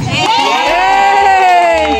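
A crowd of supporters at a Christmas party in a hut cheers loudly, with excited shouting and whooping voices sustained throughout, close and dense.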